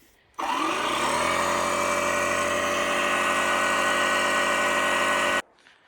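A DeWalt battery-powered tire inflator runs steadily for about five seconds while filling a large tire on a beadlock wheel, a loud, close, continuous motor drone with a whining buzz that starts abruptly and cuts off cleanly.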